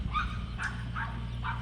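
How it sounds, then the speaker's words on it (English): A dog named Reinhardt barks a few separate times at side-by-side vehicles riding past outdoors, the barks clear but somewhat distant over low background rumble. "You can hear Reinhardt barking at everybody riding by on their side-by-sides."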